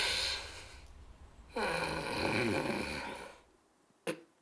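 A man imitates loud snoring while testing an anti-snoring gadget, producing a long rasping inhale snore followed by a throaty snort, then a brief electronic beep from the device.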